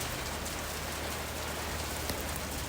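Steady, soft rain falls without a break as a constant, even hiss, with no voices or other sounds.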